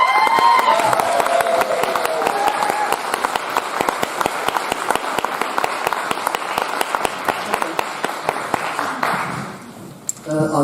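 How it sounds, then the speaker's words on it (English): Audience at a talk on 5G and Wi-Fi breaks into loud, sustained applause with some cheering, sharp individual claps standing out, before the clapping thins and fades near the end. "I'd like you to give a big round of applause for Barrie Trower."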